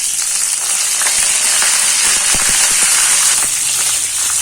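Fennel seeds, green chillies and curry leaves sauté in hot oil for a Tamil banana-flower kuzhambu. There is a continuous loud sizzle with scattered sharp crackles and pops and no voice.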